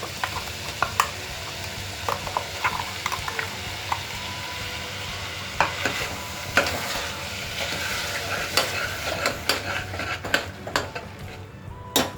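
A ground paste sizzles and fries in a pan of sautéed ingredients for beetroot kulambu, with repeated close scraping and clinks from a spoon as it is stirred, and no talking.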